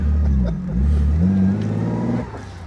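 A 1967 Fiat Dino Spider 2.0 engine revs loudly and close after a missed gear, the pitch sweeping up then settling into a steady drone before easing off, heard from inside the car.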